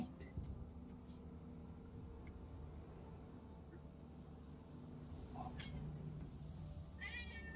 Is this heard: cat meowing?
yes